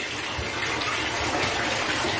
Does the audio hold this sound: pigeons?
no